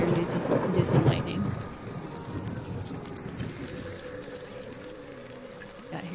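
Rain falls in an eerie orphanage scene in the Sansar virtual world, a steady hiss with a low rumbling swell early on, fading to a quieter, constant wash; a voice speaks faintly over it.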